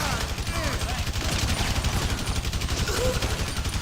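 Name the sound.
gunfire in GTA 5 video game shootout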